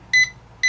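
Dual zone thermostat temperature controller sounding its low temperature alarm: two short, sharp electronic beeps, evenly spaced and close by, with nothing else audible.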